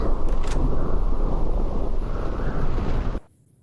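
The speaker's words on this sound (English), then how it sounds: "That wind still sounds strong." Strong storm wind roars steadily in Fallout: New Vegas, a loud, dense rush that holds for about three seconds before cutting off abruptly into near silence.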